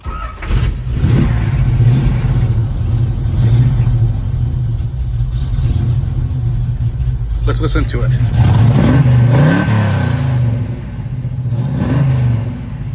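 A 1969 Chevrolet Camaro Yenko tribute engine turns over and settles into a deep, rumbling idle, then revs up in a few quick bursts while someone talks over it.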